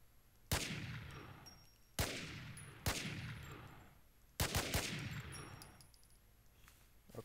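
Gun firing in Infestation: The NewZ, five sharp reports at irregular intervals, each followed by an echoing decay, with faint ringing tones in the background.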